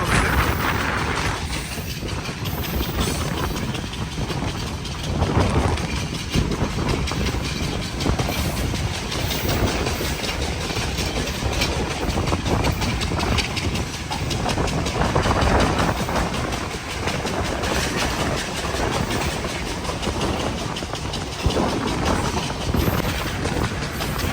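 A Sri Lankan local train runs on rails with a loud, continuous rumble and rattle, rhythmic clickety-clack and carriage noise throughout, with no talk.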